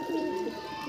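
Pigeons coo softly in a loft, a short low murmuring call that is quiet and close.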